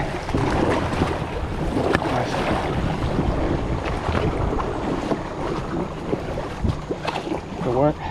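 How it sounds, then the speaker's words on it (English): Kayak paddling through mountain whitewater, with rushing, churning water and wind buffeting close to the microphone throughout, a few splashes and knocks near the end, and people talking faintly beneath the noise. "Whitewater rafting in the kayak in the mountains"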